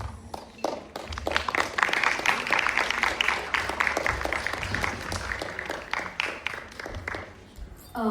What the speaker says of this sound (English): Let's now welcome her to the stage with a huge round of applause.